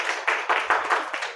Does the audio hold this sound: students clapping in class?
yes